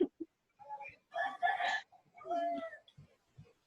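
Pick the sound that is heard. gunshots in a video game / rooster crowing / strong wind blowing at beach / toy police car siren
rooster crowing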